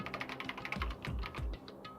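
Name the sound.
typing on a keyboard in the video game Danganronpa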